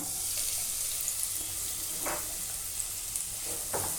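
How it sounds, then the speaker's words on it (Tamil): Chopped onion sautéing in ghee in a pan hisses in a continuous broad sizzle, with a few soft scrapes of stirring, close and unbroken, no talking. "இப்போ அதே வாணலில் அதே நெய்யில் ஒரு பெரிய வெங்காயம் சின்ன சின்னதாக கட் பண்ணி வச்சுருக்கேன். அதை சேர்க்குறேன்."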